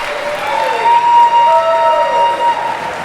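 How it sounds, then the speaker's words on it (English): Wedding reception guests applauding, a loud, sustained wash of clapping with steady tonal hums and whistles running through it, as if from a sound system or ringing in the room. "Please keep that applause going for Caitlin's maid of honor, Megan Vanderweel."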